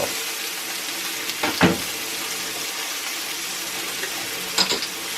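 Mushrooms frying in bacon grease in a cast iron pan give off a steady broadband sizzle, with a couple of brief stirring scrapes near the start and end and no talk.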